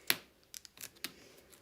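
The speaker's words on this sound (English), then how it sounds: "I'm going to take my scissors and just trim that down" Scissors trimming white card for a die-cut project, a few quiet sharp snips spaced apart, close and alone.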